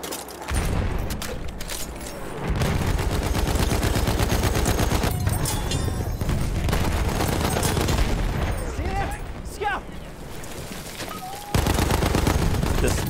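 Suppressing fire in the video game Battlefield 1, with sustained bursts of machine gun shots and occasional booms, loud and near, and a voice talking over the shooting.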